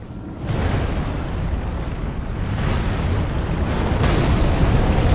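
A giant breathing fire in Elden Ring, a loud sustained roaring whoosh of flame that swells in waves over several seconds with no talking.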